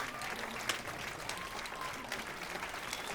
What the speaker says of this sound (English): Oh, clap, Zoltan